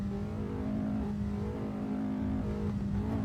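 A Formula Agile race car engine drones in a sim racing game, holding a steady high-revving tone with small pitch shifts as the throttle is worked, loud and continuous with no voices.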